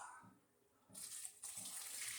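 Running water splashes and gushes steadily into a pot being rinsed out, starting quietly then swelling to a full rushing pour.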